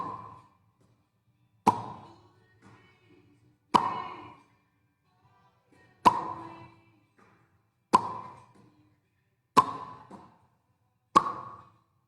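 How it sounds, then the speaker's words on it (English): Lips sealed tight and popped apart in a lip-smack exercise, six sharp, isolated pops spaced about two seconds apart, close and fairly loud with quiet gaps between. "next one, lip smacks"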